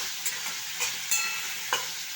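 Potatoes frying in oil in a pan while being stirred, with a steady close sizzle broken by a few soft scraping strokes, no voices present.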